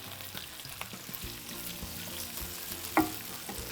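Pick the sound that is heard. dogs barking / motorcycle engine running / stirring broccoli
stirring broccoli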